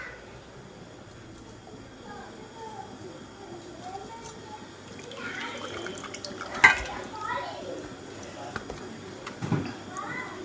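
Squeezed tamarind water is poured over cleaned pearl spot fish in a home kitchen, giving a light splashing trickle that builds in the second half of the clip, with a few short louder splashes under conversation.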